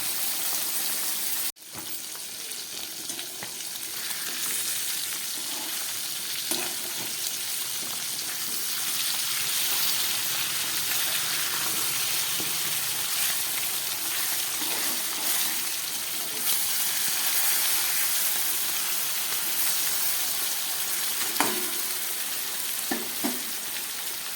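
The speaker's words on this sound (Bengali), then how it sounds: "এবার ভালো করে এবার ভেজে নেব মাছটাকে" Sarputi fish fries in oil and spices in a pan, giving a steady, dense sizzle and crackle that holds for the whole stretch, broken early by one sharp knock and a few faint utensil clinks.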